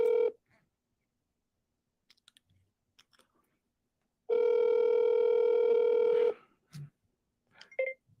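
Telephone call tones from an accidental pocket dial: a short tone burst, scattered faint clicks, then a steady two-second dial tone, followed by more clicks and brief tone blips.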